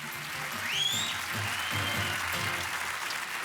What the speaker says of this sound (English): The audience gave her a cheer, like a rock star